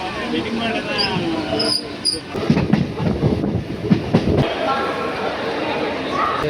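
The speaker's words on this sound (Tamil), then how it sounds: "சென்ட்ரல் ட்ரெயின் வந்துருச்சு மக்களே" A Chennai Central suburban train rumbles and clatters into a station in Chennai, wheels clacking and squealing faintly, with people talking nearby over the steady noise.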